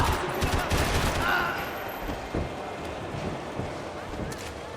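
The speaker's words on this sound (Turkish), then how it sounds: "Silah seslerini duydum." Bursts of gunfire crackle in the Max Payne 3 video game, several rapid cracks at the start and scattered shots after, amid a rushing windy background.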